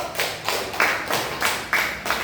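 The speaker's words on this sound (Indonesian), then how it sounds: "Tepuk tangan buat Yusuf" Classmates in a classroom clap for a student, a quick series of about seven sharp, evenly spaced claps fairly close by with no talking over them.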